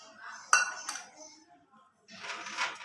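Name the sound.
adding ghee to a pan for mohanthal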